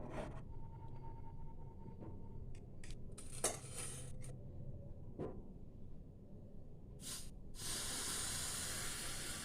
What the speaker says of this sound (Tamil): பாருங்கள், அது நுரைச்சி எப்படி வருது பாருங்கள்.